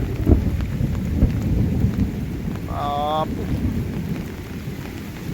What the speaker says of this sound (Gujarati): વરસાદી માહોલ બહુ છે